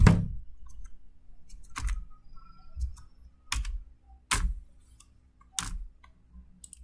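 Several sharp, separate keystrokes spaced about a second apart as an OTP is typed on a computer keyboard, each one a crisp close click with quiet pauses between.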